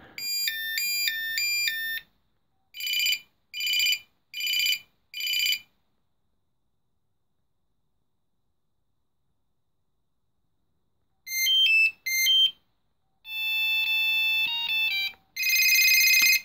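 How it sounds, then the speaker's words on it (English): Several electronic ringtones from a 1996 Motorola Traveller dual band flip phone: bright beeping melodies in short repeated bursts, then a long silence, then more varied tone patterns, all loud and clear without talk. "you had I think 6 or 7 ringtones in this thing"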